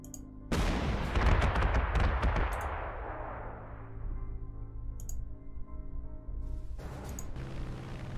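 Anti-aircraft gun firing in Panzer Corps 2, a loud burst of rapid heavy shots with booming rumble that decays into a ringing tail, followed by a few fainter clicks.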